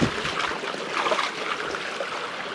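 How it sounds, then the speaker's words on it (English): Water flowing in the distance along a trail at a rainy campsite, a steady soft broadband rush that runs without a break through the whole stretch. "she can hear water in the distance, and I think I can hear it too"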